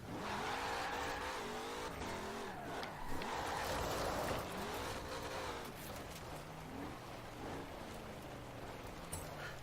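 A car in Forza Horizon 4 races with its engine revving up and down through repeated gear shifts and sweeping pitch changes. A rushing road and tire hiss runs underneath. No one speaks.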